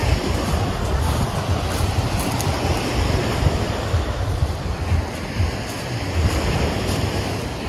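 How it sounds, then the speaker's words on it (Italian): Surf rolls steadily onto a beach at a regional nature reserve on a July day, a continuous close wash of breaking waves with wind buffeting the microphone throughout and no talk. "Saluti dalla spiaggia."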